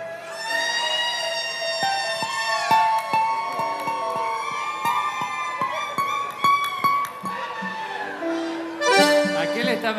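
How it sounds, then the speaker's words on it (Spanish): A wailing emergency siren rises and falls in long sweeping tones, loud and close, during a crowded outdoor dorado fishing festival on Isla del Cerrito, Chaco, with people talking over it. "Esa es una sirena."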